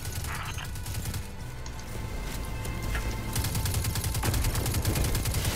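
Rapid gunfire from Destiny 2, steady bursts of automatic shots, moderately loud and continuous, growing denser in the second half with sharp crackling reports and no talking.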